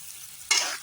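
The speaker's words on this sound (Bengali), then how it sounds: "পেঁপেটা আমার ভাজা হয়ে গেছে" Papaya pieces frying in oil in a wok: after a quiet start, a loud, close sizzle bursts in halfway and holds briefly before easing off.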